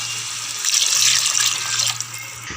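Water pours into a pot of half-cooked chicken for biryani as a steady, close splashing hiss lasting about two seconds over a low background hum, with no talking.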